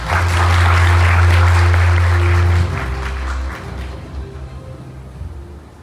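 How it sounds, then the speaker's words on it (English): Audience applause at a lecture hall welcome for a speaker, loud sustained clapping from a crowd for about two and a half seconds, then fading to scattered claps and quieter room noise. "Professor Dr. Shashawin Angura Wasaporn with a round of applause"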